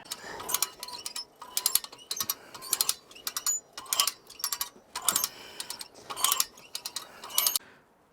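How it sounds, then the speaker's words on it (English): A hand winch ratchets in rapid bursts of sharp metallic clicks, pausing briefly between pulls, as it drags a large boulder during gold prospecting; close and fairly quiet, with no talk. "I think we got to winch it up a little more"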